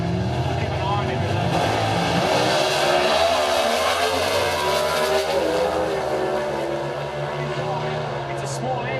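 A small-engine legend car screams at high RPM during a drag race, a loud sustained engine whine with a slight drop near the end.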